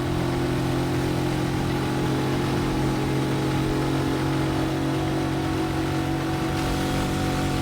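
A camper cart's engine drones steadily while driving in heavy rain on a winding mountain road, a constant mid-pitched hum with a low rumble under a wash of broadband rain-and-road noise, with no talking.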